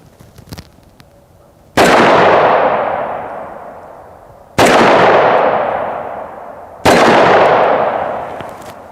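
Three loud handgun shots ring out at spaced intervals, each a sharp crack against AR500 steel body armor followed by a long decaying ring; the rounds are .45 ACP and .357 Magnum, with no talking.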